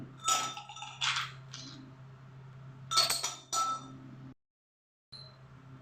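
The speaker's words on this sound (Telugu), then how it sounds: "ముందుగా ఐస్ ముక్కలు వేస్తున్నాను గ్లాస్లోని" Ice cubes dropped into a drinking glass for a mango milkshake, a few quick bright clinks in separate bursts with a steady low hum beneath, close and fairly loud.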